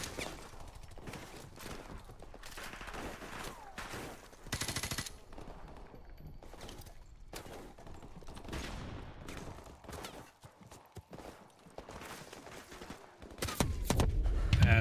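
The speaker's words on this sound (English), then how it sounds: "Still getting shot from that other freaking building" Rapid gunfire in Call of Duty 4: Modern Warfare Remastered on the Safehouse mission, repeated bursts of shots coming from another building, some close and sharp, others more distant, with brief pauses between volleys and no talk.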